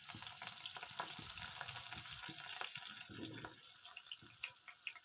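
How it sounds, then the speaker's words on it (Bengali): Potatoes fry in oil with a soft, steady sizzle, punctuated by faint scrapes and light taps of stirring. "কিছুটা তেল দিয়ে আমি এবার আলুগুলো ভেজে নেব"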